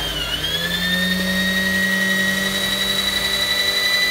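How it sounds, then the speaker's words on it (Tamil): A Singer 4423 sewing machine runs at high speed while winding a bobbin, giving a steady, loud motor whine with a high tone that rises briefly at the start and then holds evenly to the end, with no talk. "இப்போ நம்ம என்ன பண்ணலான்னு பார்த்தீங்கன்னா பாபின் சுத்த போகிறோம்."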